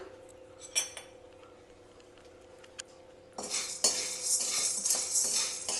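Large sago pearls fried and stirred in a pan for sabudana kheer: quiet metallic clinks and scrapes of a spoon at first, then a louder, denser rattling sizzle of stirring that continues close up.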